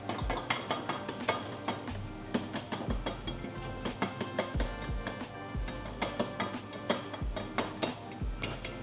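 A whisk is knocked repeatedly against a bowl while making scoopable cheesecake, giving a steady run of sharp metallic taps and clanks, close and fairly loud, with no talk over it.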